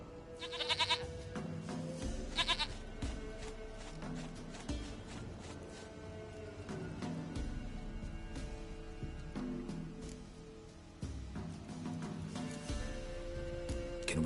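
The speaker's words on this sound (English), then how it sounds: "Goat of mine, dearest, sweetest goat." A goat in the video game The Witcher 3 bleats in several short, wavering calls, close and fairly loud, over a steady game backdrop of ambient music and noise.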